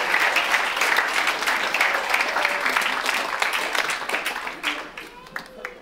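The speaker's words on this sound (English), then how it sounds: "Let's give them another round of applause" Audience applause for a family, a steady wash of many hands clapping that thins out and fades toward the end.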